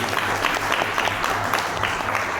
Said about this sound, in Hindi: चलिए जोरदार तालियां होनी चाहिए इन लोगों को